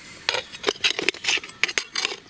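Metal cutlery clinks and scrapes in a quick, irregular series of light taps, close by with no talking.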